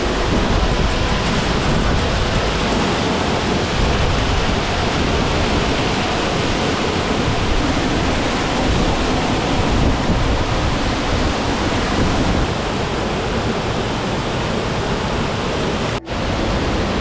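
Uvita Waterfall in Costa Rica roars continuously, a loud, dense, unbroken rush of falling water heard up close at the top pool, with no voices.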